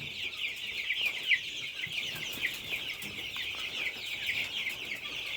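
Lohmann Brown chick, eleven days old, making soft continuous high-pitched peeping and clucking calls at steady moderate level, with one slightly louder note, and no talking.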